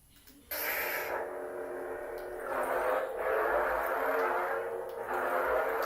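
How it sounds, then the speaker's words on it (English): Lightsaber swing effects from a Saber Forms sound font on a Sith lightsaber: a steady buzzing hum that surges and whooshes in several broad swells over about six seconds, fairly loud and alone. "These swing sounds are really good though."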